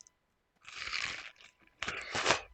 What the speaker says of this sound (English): Let me chew on this watermelon for a little bit.